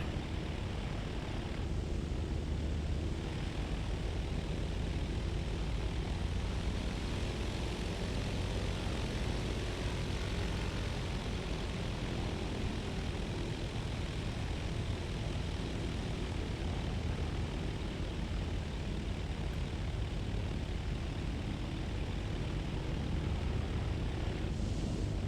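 Steady, even piston-engine drone of a simulated Cessna 152 light aircraft taxiing at Bremerton, a continuous broadband hum that holds unchanged throughout with no voices.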